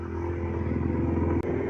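Motorcycle engine running steadily on a night ride along a mountain road, a loud, close, continuous drone with a brief dip near the end.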